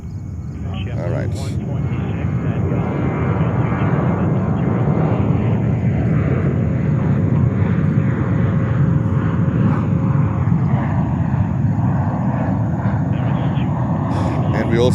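A large jet aircraft moves at JFK airport in New York, a steady loud engine roar that swells and holds throughout, with a faint whine and people talking underneath.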